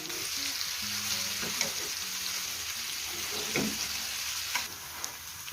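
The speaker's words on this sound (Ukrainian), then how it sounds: "Груші смажаться, треба їх трішечки-трішечки підсолити." Pears sizzling steadily as they fry and caramelize in a pan, a constant close hiss with occasional soft stirring clinks and pops, and no talking.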